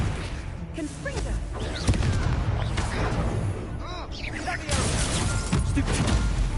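A Confringo blasting spell going off in the Hogwarts Legacy video game, with a dense roar of booming blasts and crashing debris over a sustained noisy bed, loud and continuous throughout.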